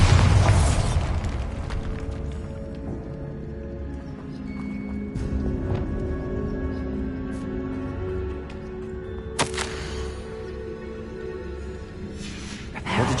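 In the Hogwarts Legacy video game, a Bombarda blasting spell goes off with a loud opening boom, followed by rumbling debris, scattered clatter and a second sharp burst later on.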